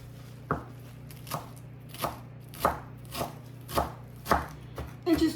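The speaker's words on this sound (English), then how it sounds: "I'm going to chop up some cilantro." A knife chops cilantro on a cutting board in a steady series of about nine crisp, evenly spaced thuds, close and clear over a faint background hum, with no talking.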